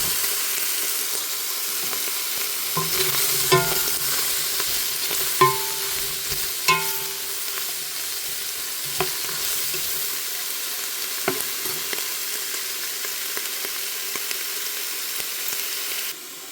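Sausage and onions fry in a pot for Italian cabbage soup, a steady sizzle and hiss broken by several scraping stirs of a utensil, close and clear with no talking.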